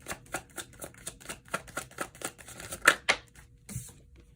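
Tarot cards being shuffled by hand in a steady run of soft riffling flicks and snaps, close and fairly quiet, with a couple of sharper riffles near the end and no talking.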